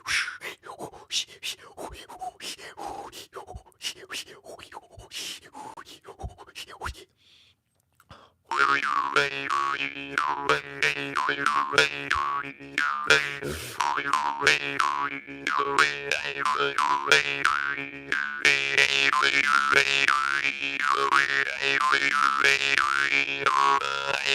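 Jaw harp played live, with a few short twangs and a brief pause before a long run of loud, close, buzzing rhythmic twanging with shifting tones; no speech.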